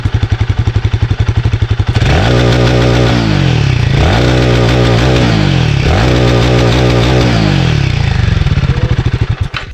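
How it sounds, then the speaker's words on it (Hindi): A Royal Enfield Himalayan 450 motorcycle thumps at a fast idle, then is revved hard to full RPM three times in a row, each loud blip climbing and falling back, close and dominant before settling again. "फुल RPM में साउंड सुन लो कैसा होता है"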